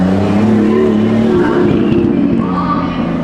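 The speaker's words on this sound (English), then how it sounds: "I think it was a Nissan of some sort and it sounded really, really good" A Nissan car passes close by, its engine droning loud and steady for a few seconds and its pitch shifting as it goes by, with crowd and lot noise from a car meet behind it.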